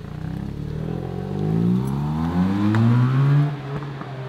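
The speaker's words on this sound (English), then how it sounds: "It sounds like the valves are tapping." A Mazda RX-8 engine revs up and down with rising and falling harmonic tones, a light ticking clatter of tapping valves running underneath the steady mechanical drone.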